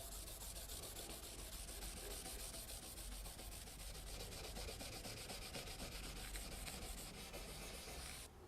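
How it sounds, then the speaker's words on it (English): A paper towel rubs wax off a guitar neck with steady, continuous scrubbing, a soft, even friction hiss that runs close and unbroken for several seconds before stopping abruptly, with no voices. "I'm going to move back and just wax it off ever so lightly."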